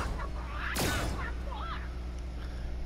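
A chicken in a video game: a sudden sharp burst followed by a few startled squawks and clucks, fairly close, over a low steady background hum.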